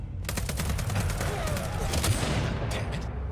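Sniper and other gunfire in the video game Vampire: The Masquerade – Bloodlines 2, a quick run of sharp cracks and bursts over a low game rumble, fading out at the end.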